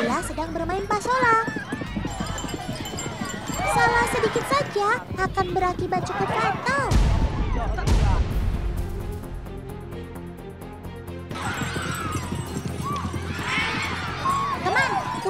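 Sumba horses gallop in a pasola, the traditional mounted contest of Sumba, their rapid hoofbeats clattering steadily beneath continuous narration that runs through the whole stretch.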